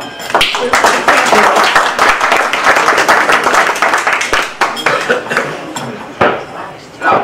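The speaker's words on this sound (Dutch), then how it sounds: "Dus ik wil haar vragen voor een warm applaus voor Thea." Warm applause from an audience at a Dutch local gathering for a booklet's author, dense clapping throughout with a few louder claps near the end, a voice briefly heard under it.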